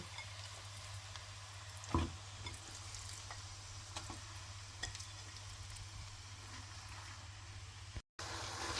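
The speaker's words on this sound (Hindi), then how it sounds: "अब हम इसमें चिकन डाल देते हैं।" Chicken cooking in a pan with chilli and turmeric over medium-high flame, a faint continuous frying sizzle with a steady low hum underneath and a couple of small clunks, then a brief dropout near the end.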